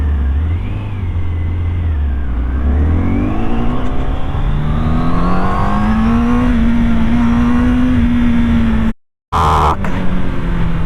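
A car engine revs hard and loud up through climbing pitch, pulling high into the rev range over several seconds with a brief cutout near the end, close by with no talk.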